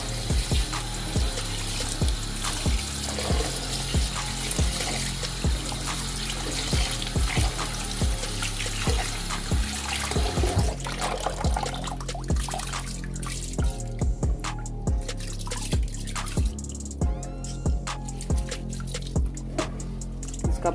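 Water splashes and drips as rice is washed by hand in a bowl before soaking, with irregular close trickles and sloshing, then a running tap toward the end.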